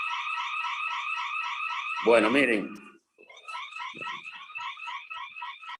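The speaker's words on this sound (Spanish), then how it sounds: "se disparó una alarma ahí." An electronic alarm goes off with a steady run of rapid, warbling pulsed beeps, briefly broken by someone speaking Spanish over it, then resuming at a similar level.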